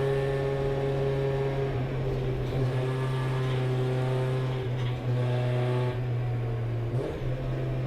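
Hot hatch race car engine droning steadily and loud on a fast green flag warm-up lap at Cadwell Park, with sustained harmonic tones shifting as the revs rise and fall.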